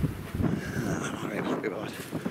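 Wind buffets a microphone at a wild camping spot on the Northumberland coast, a steady loud rumbling roar that runs through the whole moment, with a voice talking over it.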